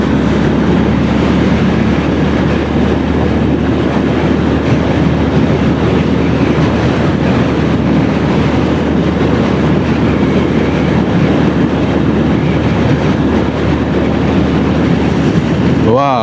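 Loud, steady wind roar buffets the mic while riding a Bajaj Discover 125 motorbike after rain, blended with a low engine drone that holds continuously throughout.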